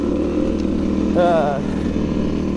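Motorcycle engine idling with a steady low rumble throughout, recently adjusted at the idle screw, with a brief rising whine partway through.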